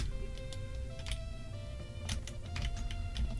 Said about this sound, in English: Sounds like Drew typing an angry letter